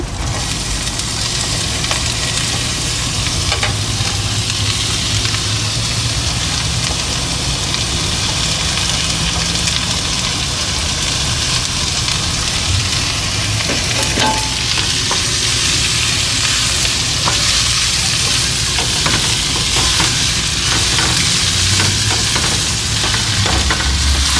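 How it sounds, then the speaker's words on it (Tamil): Sliced white onion fries in a pan for masala dosa, a loud, dense sizzle holding steady throughout with occasional scraping stirs, close up and without talk. "வெள்ளை ஆனியன் இப்படி வெட்டி வச்சுருக்கிறேன் ஸ்லைஸாக, அதை ஆட் பண்ணுவோம்"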